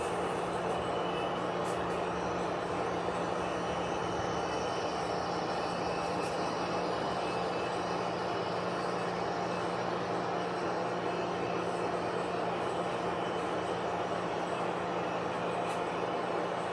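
Model trains run on a layout, a continuous close mechanical rumble and whir with a steady hum and faint clicks throughout, no talk.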